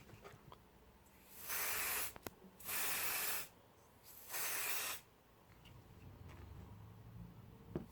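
Three sustained bursts of aerosol spray as oil is applied to the dirty side of a dry K&N cotton air filter, each hiss lasting about a second with short pauses between, close and fairly loud over a quiet background.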